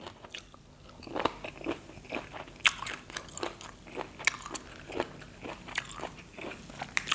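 Close, wet crunching of cockles being bitten and chewed, in irregular crisp bursts with short pauses, no talking.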